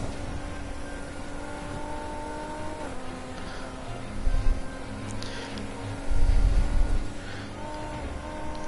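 Lamborghini in the racing game Need for Speed Heat, a steady engine drone with shifting pitch and two brief heavier low thumps, likely barrier impacts, loud and close throughout with no talk.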